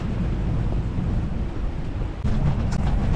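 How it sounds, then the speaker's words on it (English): Strong wind of 22 to 25 knots blowing across a sailboat with rain falling nearby: a steady, loud roaring buffet against the microphone that surges harder near the end. "It's pretty windy, so I turned on the instruments to see how hard the wind was blowing."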